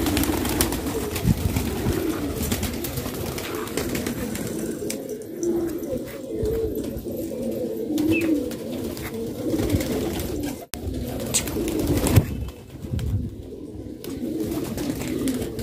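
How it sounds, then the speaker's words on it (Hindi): Pigeons kept for sale at a pigeon market coo repeatedly in low, throaty bursts over a steady background of flock noise and rustling, close and continuous throughout with no speech. "ये जी कबूतर बाहर आ गए दोस्तों,"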